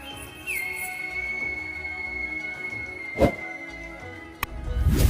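A long sustained human whistle from a professional whistler holds one pitch for several seconds, imitating a bird chirping, with a couple of sharp knocks and rising noise at the end.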